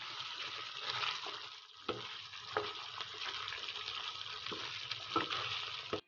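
Meat with masala sizzles steadily in a pot on high flame as a spoon stirs it, with periodic scraping clacks of the spoon against the pot over continuous frying hiss and no talking.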